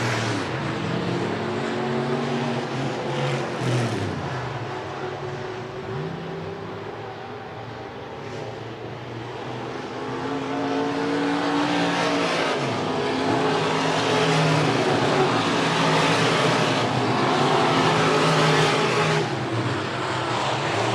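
IMCA SportMod race cars roar around the dirt oval at Buena Vista Raceway, engines droning and rising and falling as they pass, loud and continuous throughout a heat race.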